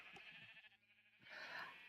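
A sheep bleats in the Minecraft video game, a short wavering game-animal call heard alone at moderate level, swelling louder toward the end of the brief clip.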